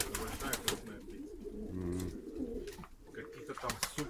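Baku broad-tailed pigeons, large high-flying birds, coo in soft low rolling phrases across a loft, with wingbeats and small rustles mixed in and someone talking over them.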